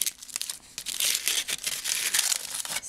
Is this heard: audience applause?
no